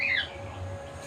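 Pet birds let out a brief, shrill squawking call at the start, fading into a low room hum with no one talking.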